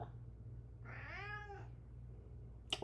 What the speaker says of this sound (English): you think you about to sit here and meow at me during the stream?